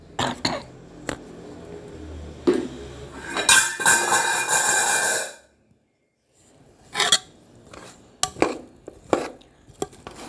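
Spices tempering in a pan for homemade lemon pickle, a loud burst of sizzling and spluttering that rises sharply, holds for a couple of seconds, then cuts off, framed by scattered clinks and knocks of kitchen utensils.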